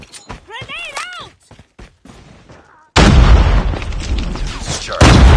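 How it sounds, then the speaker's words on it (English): A grenade blast in Call of Duty Mobile hits with a sudden loud boom and sustained rumbling aftermath, preceded by a short radio-style voice callout and a few sharp game sounds. "Grenade out!"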